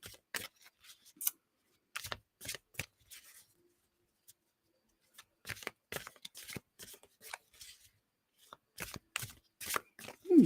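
Tarot cards are shuffled in short, crisp bursts of flicking and riffling separated by quiet gaps, close and fairly soft.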